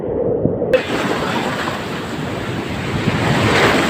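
Sea waves wash onto the beach at a resort in Cabangan, Zambales, a steady broadband roar of surf mixed with wind buffeting the microphone, continuing loudly after a brief quieter opening.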